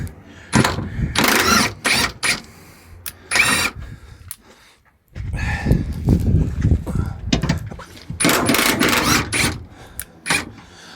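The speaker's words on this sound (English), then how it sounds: "I'm going to undo a couple of these big bolts now." Large 17 mm bolts being undone on a Nissan Leaf high-voltage traction battery, with close, intermittent bursts of mechanical rattling and whirring from a tool, broken by short pauses and a quiet gap in the middle.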